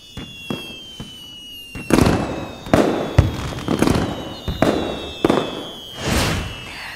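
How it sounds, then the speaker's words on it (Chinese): Fireworks burst one after another in a night sky, a series of loud sharp booms and crackles at irregular intervals, some closer and heavier than others. "在这个烟花下"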